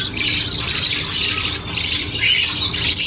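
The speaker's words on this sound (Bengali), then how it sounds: "আমার এই দিকে রয়েছে এক জোড়া লাভবার্ড পাখি লুটিনো" A pair of lutino lovebirds squawk constantly in a close, loud, shrill chatter that rises and falls in waves throughout, with no talking.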